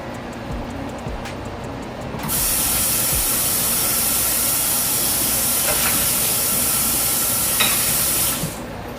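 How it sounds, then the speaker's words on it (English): Tofu cooks in a sesame sauce that is reducing in the pan, giving a loud, steady sizzling hiss that starts suddenly after about two seconds and holds evenly before cutting off near the end, with no talking. "add it to the tofu and coat the tofu and cook with the sauce until the sauce reduces"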